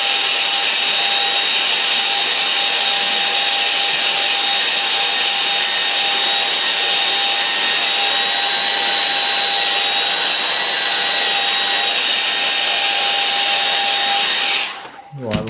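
Hair dryer blowing on a watercolour painting of old Somerset barns, a loud, steady close-up whine and rush of air lasting throughout and cutting off abruptly at the end.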